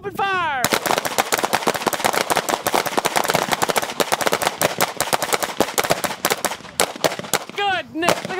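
Rapid bursts of .50 caliber machine gun fire mixed with other gunfire on an outdoor shooting range, loud and sustained with dense overlapping shots; brief speech at the start and end.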